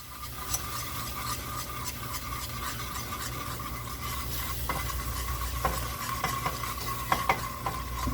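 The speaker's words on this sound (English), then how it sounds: "Whisk and whisk" Half and half is whisked into a simmering cheddar broccoli soup, with a continuous brisk scraping and stirring over a soft sizzle and occasional clinks of the utensil against the pot.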